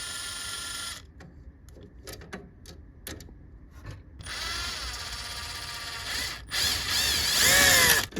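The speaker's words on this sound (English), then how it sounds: "Unscrew the 2 screws and remove the black casing." Screws are backed out of the black casing of a Ricoh Aficio MP C2551 copier, with a string of sharp ratcheting clicks followed by a louder, sustained whirring buzz of a powered screwdriver near the end.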